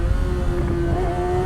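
A Yamaha R6 inline-four motorcycle engine drones steadily and loudly up close, its exhaust note holding a smooth, continuous tone with slight shifts as gears are taken down.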